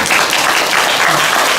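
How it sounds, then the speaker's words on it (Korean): Steady audience applause fills the room at a Korean lecture on forests and Ansan's scholarly and artistic heritage, a dense, even wash of clapping with no gaps. "그러니까 박수를 쳐주셨는데"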